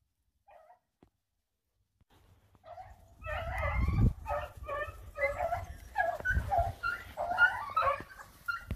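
Several hunting dogs chasing rabbits bark, yip and whimper in a rapid, excited chorus, close by and continuous after a quiet start.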